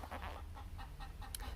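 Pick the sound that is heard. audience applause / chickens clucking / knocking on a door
chickens clucking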